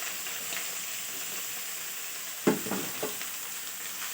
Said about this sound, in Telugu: ఉల్లిగడ్డ కూడా వేసేస్తున్నా.